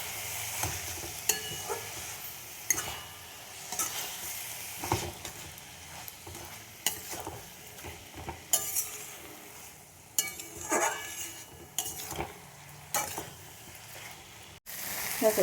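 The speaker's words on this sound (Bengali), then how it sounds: "এটা এবার দেবো মোচাটা সাথে মশলার সাথে কষিয়ে নেব।" Banana flower being fried with spices in a pan, a soft sizzle broken by repeated stirring scrapes and clatters of the utensil, close and fairly quiet with no talk.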